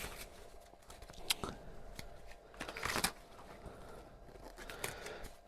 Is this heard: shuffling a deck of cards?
yes